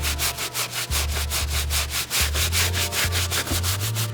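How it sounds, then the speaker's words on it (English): A soft bristle brush scrubs a very dirty Nike Air Monarch shoe in fast, steady back-and-forth strokes, close and loud with a regular rubbing rhythm and a low hum underneath. "I'm gonna go ahead and give it a once over with the soft bristle brush"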